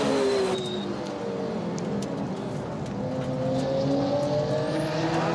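Race cars, including a Honda NSX, lapping the final corner of Tsukuba circuit: a loud, steady engine roar that climbs in pitch as it accelerates, with no pauses.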